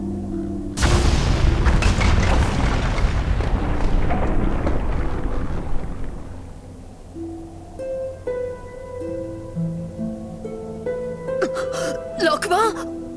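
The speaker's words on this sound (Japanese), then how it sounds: "これは兵器による爆発です" A weapon explosion in a Xenosaga III cutscene at the Dabrye Mine entrance: one sudden heavy boom that rumbles and slowly decays over several seconds, followed by tonal music and a short voice.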